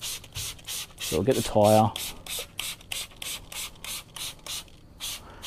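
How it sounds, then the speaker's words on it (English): Rapid pumping sprays of wheel cleaner from a trigger bottle hiss in a quick, regular rhythm, briefly interrupted by someone speaking. "Start spraying this down. So get my bottle to work."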